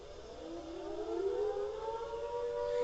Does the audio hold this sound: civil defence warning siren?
yes